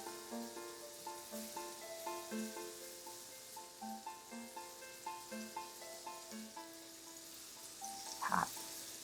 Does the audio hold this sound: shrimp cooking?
yes